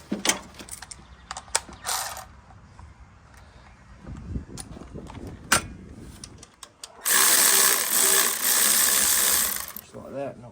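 A socket ratchet clicks in quick bursts while turning bolts on an RB30DET engine for an R33 Skyline, then a louder sustained rasping whir follows, all close with brief talk between.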